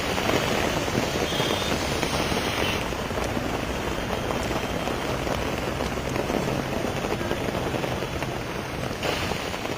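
Heavy rain pours down over flooded Delhi roads, a loud, dense, continuous hiss of drops on water and pavement with no break.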